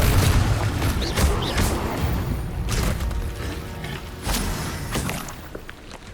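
Confringo blast spells fire in Hogwarts Legacy, several booming bursts hitting one after another over dense background game noise, with no speech.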